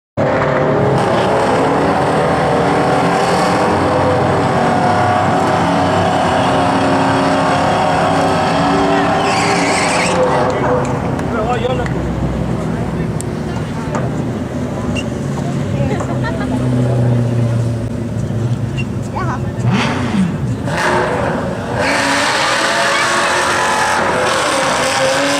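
A 2001 Ford Mustang Bullitt on radial tires launches down a drag strip beside another car, a loud engine roar and tire noise rising and shifting over about twenty-five seconds.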